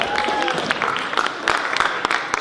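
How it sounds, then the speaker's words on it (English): A school audience claps after a student mock presidential debate, a short burst of applause mixed with voices and crowd noise. "Give them a big round of applause, everybody."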